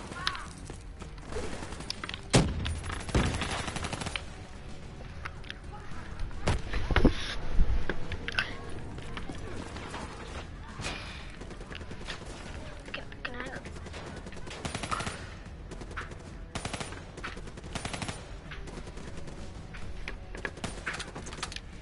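Rapid pistol and other gunfire in the video game Assassin's Creed Odyssey, sharp repeated bursts scattered across the stretch amid game noise and occasional talk.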